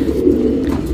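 A tournament pigeon from a bonded breeding pair gives a low, steady coo, close and fairly loud, with no talk over it.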